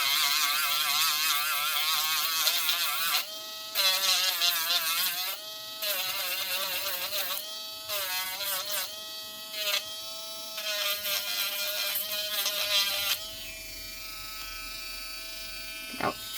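A Dremel rotary tool works on cured UV resin, a loud high-pitched buzzing whine that runs in bursts, briefly stopping and restarting several times as its pitch shifts, before it winds down to near silence.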